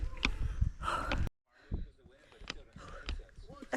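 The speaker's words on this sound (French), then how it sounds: "Je suis essoufflée, franchement j'en peux plus." A woman breathes heavily and gasps, out of breath on the steep Hakarimata Summit Track climb in New Zealand, with close, labored breaths and brief speech between them.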